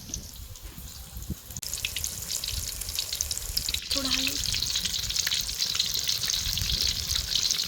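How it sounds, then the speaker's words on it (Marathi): Chilli onion bhaji fritters dropped into hot oil, a close, continuous sizzle and crackle of frying that grows louder and denser partway through, with occasional light stirring or handling clicks. "चांगली भजी तळून घ्यायची चॉकलेटी कलर येपर्यंत"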